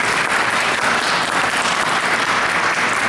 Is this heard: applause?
yes